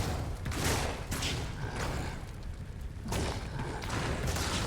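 Necromancer corpse explosions in Diablo II, dealing fire and physical damage, go off as a string of loud, dense blasting thumps and booms, rising and falling over a steady roar of game combat.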